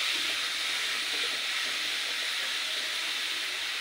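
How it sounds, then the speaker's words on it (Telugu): Cucumber pieces fry in a wok-style pan, giving a steady, dense sizzling hiss that stays close and even throughout with no voices. "ఇప్పుడు అదే బాండీలోకి దోసకాయ ముక్కలు వేసేసుకుని ఫ్రై చేసుకుందాం."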